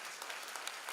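An audience at a live stage event applauds steadily for a brief moment, the clapping soft and distant, evenly spread without any clear peaks.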